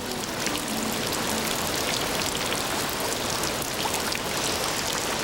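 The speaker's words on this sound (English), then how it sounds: "And this is the other side of life on the Milford Track. Rain, lots of it." Heavy rain pours on the Milford Track in Fiordland, a dense, even hiss of drops hitting foliage and ground, loud and unbroken from start to finish with no voices.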